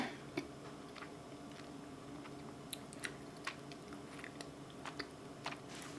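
Quiet, close chewing and biting of a mochi-style ice cream with a chewy rice-cake shell, soft squishy mouth sounds punctuated by small sticky clicks, with no talking.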